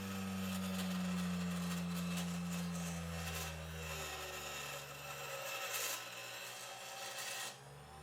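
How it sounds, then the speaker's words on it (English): A small, low-torque Harbor Freight grinder works the edges of a metal pinball plunger linkage part, giving a steady, loud motor drone with harsh grinding. Its pitch sags as the wheel bears down, then eases off near the end. "I'm going to grind just a little on the edges like here"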